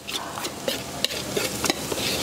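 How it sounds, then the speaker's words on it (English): Cornbread batter hitting a hot pan gives a steady bright sizzle, with scattered pops and clinks of a utensil stirring through it, close and continuous with no talk. "Hear that sizzle? That's what we want is the sizzle."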